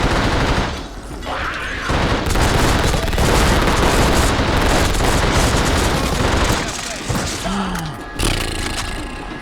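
Sustained automatic gunfire in The Suffering video game, fired at a spider, roars almost continuously for several seconds, loud and dense with brief lulls and a few heavier booms.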